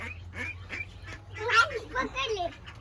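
Several duck quacks burst out in a quick, irregular series, close by, with a steady low hum and some talking mixed in.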